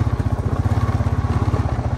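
Honda Rancher ES four-wheeler ATV with thumb shift, engine running with a steady, close, loud low throb that pulses rapidly and evenly throughout, with no talking over it.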